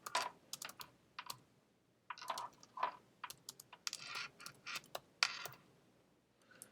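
Computer keyboard being typed on while a web form is set up in Dreamweaver, with irregular clusters of crisp key clicks and tab presses, close and fairly quiet, with brief pauses between bursts and no talking.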